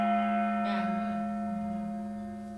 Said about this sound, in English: I wanted to use one of the Korean clave with a Korean percussion that came from Korea from my dad.